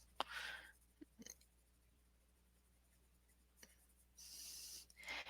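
A darker coloured pencil, its tip coated with Vaseline, shades dark areas on paper in short scratchy bursts, close and faint, separated by quiet pauses and a few light taps.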